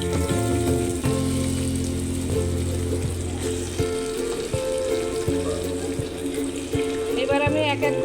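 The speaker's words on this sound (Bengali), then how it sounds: "তো এই দেখুন আমি এখন মাংসগুলো দিয়ে দিচ্ছি।" Pieces of mutton go into hot oil spiced with cardamom, cloves and cinnamon for a Bengali dak bungalow curry, giving a loud, close, continuous sizzle and crackle with scattered pops and soft clattering.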